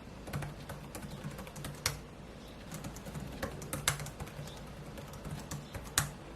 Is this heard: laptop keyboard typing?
yes